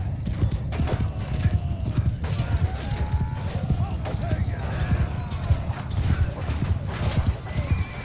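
Horse hooves clip-clop steadily in the medieval battle game Mount & Blade II Bannerlord, with whinnies, clashing combat noise and a dense battlefield din, all close and loud throughout.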